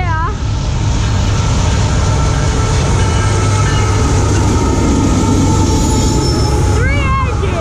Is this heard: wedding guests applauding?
no